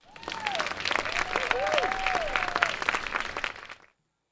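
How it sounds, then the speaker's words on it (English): A live audience at an arts festival storytelling show claps steadily for several seconds, with whoops and cheering voices over the applause before it cuts off abruptly. "Clap it up again."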